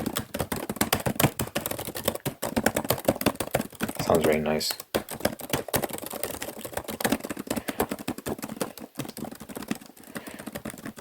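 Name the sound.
typing on a keyboard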